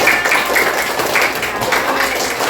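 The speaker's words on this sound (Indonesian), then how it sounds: "Tepuk tangan untuk kita semuanya." Children in a classroom applaud together in a dense, steady wash of claps that runs without pause for a few seconds, with faint voices mixed underneath.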